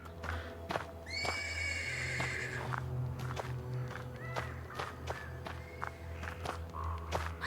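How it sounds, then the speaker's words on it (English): A horse in the video game Black Book neighs from the stables, whinnying loudly twice over clip-clopping hooves and a steady game ambience. "The persistent neighing of a horse can be heard from the stables."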